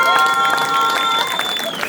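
Crowd at a sour-soup (kyslô) cooking contest award ceremony claps and cheers together, a dense steady wash of applause with some whistling tones running through the whole short stretch.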